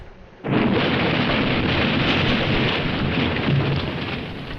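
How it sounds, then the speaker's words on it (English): A bunkhouse explosion in a Nancy Drew video game, heard as a sudden loud, deep rumbling blast that sustains as a dense roar for several seconds before slowly easing, with no voices. "An explosion."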